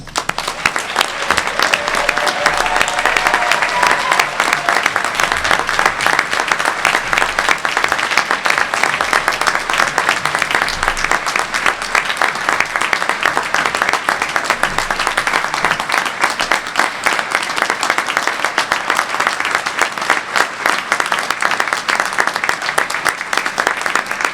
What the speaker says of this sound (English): Please join me in giving all of our graduates a well-deserved round of applause.